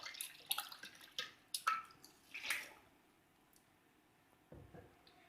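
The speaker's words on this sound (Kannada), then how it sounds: "ಮಿಕ್ಸಿಯನ್ನು ತೊಳೆದ ನೀರನ್ನೇ ಇದಕ್ಕೆ ಹಾಕಿ" Water used to rinse a mixer jar is poured into a pan of Mangalorean chicken sukka, giving faint splashes and drips in short bursts followed by quieter trickles.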